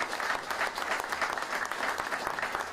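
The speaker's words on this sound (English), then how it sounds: "A round of applause for each one of them." A crowd at a ribbon-cutting ceremony for a new behavioral health hospital breaks into warm, steady applause, dense clapping that holds evenly throughout.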